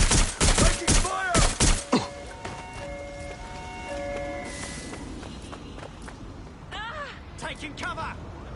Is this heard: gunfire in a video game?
yes